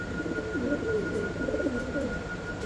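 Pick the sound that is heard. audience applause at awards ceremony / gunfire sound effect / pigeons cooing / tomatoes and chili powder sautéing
pigeons cooing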